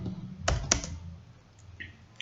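Keys tapped on a computer keyboard while writing JavaScript code, a few sharp clicks in a short burst followed by lighter scattered taps, close and fairly clear.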